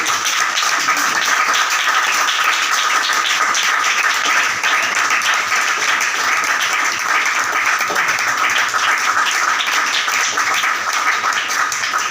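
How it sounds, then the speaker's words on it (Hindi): A large congregation at a church gathering claps loudly and continuously, dense overlapping applause holding at full strength from start to finish with no speech over it. "और अपने लिए अब जोरदार तालियां बजाइए"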